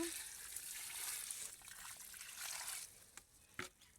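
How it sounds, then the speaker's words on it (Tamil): Water is poured from above onto a potted rose plant, a soft continuous splashing trickle for nearly three seconds that then stops, followed by a couple of faint knocks. "தண்ணி ஊற்றிடுவோம்"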